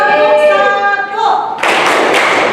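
A group claps hands in a teacher-training class session: a short run of sharp claps, about three, bursts out right after a voice speaks.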